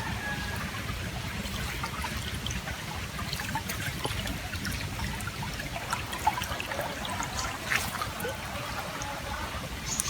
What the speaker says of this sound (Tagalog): Malinis po ang ilog na ito.